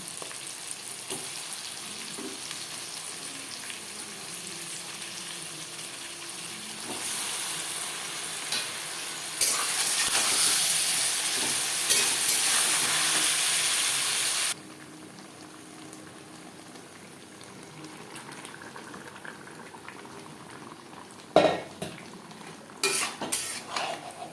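Marinated chicken frying with onion and tomato in a pan, a steady sizzle and bubbling with stirring scrapes, louder in the middle then softer, ending with a few sharp utensil clinks.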